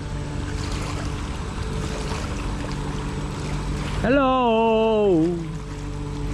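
A small motorboat motors along a river with a steady, fairly close engine drone, while a voice speaks briefly and a sharp horn-like tonal blast cuts in near the end.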